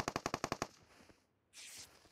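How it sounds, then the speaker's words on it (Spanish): Gunfire in the PUBG Mobile video game comes as a rapid automatic burst of about seven sharp shots, followed by a brief lull and a softer hissing noise. "Yo le pego un par de tiros, pero me tumba"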